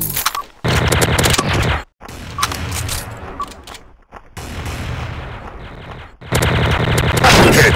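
TMP submachine gun in the Special Ops video game, firing in loud sustained automatic bursts separated by short silent gaps, close and dominant throughout.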